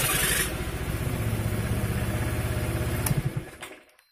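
A 2008 Honda Vario scooter's engine cranks and runs just after a starter repair, a close, steady pulsing putter that carries on for a few seconds, then a couple of sharp knocks as it cuts out to silence.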